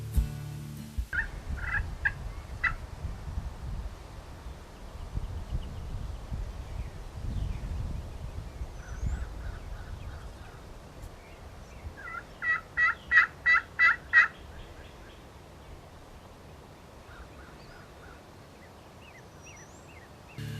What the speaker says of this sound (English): I'd been calling to old Houdini, and he'd actually broke away from them hens, and he was coming in on a string